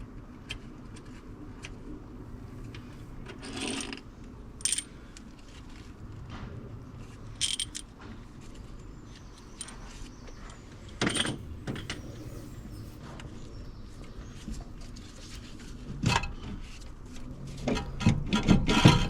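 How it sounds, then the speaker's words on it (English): Cylinder head bolts are being worked out of an MK2 Golf GTI engine, quiet scraping and rubbing broken by scattered metallic clicks and clunks from tools, with sharper knocks toward the end. "So I'm just literally trying to get these bolts out just to make my life easier later"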